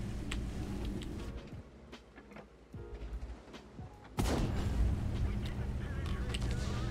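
An artillery shell from World of Tanks lands near the tank and misses, a sudden heavy boom partway through that leaves a louder rumbling din after it, with battle noise throughout.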